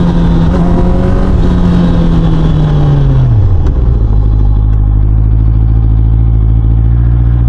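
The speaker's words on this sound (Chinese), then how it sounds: "试一下刹车。" A 2025 QJMotor RACE 600RS sportbike brakes hard on a test ride with front and rear ABS, its loud engine drone sliding down in pitch as it slows before settling into a steady low rumble under wind noise.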